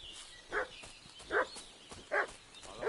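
A dog in Kingdom Come: Deliverance 2 barks three times at an even pace, followed by a fourth starting at the end, each a short, clear woof at moderate distance over a quiet background hum.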